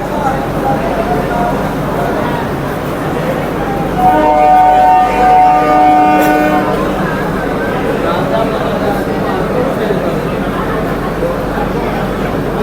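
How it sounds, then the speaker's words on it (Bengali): Sealdah–Ranaghat AC local train departing from a station platform, a loud horn sounding midway over steady rumbling rail noise, with people talking nearby. "এখান থেকে এখন কিন্তু ট্রেনটা চলে যাবে"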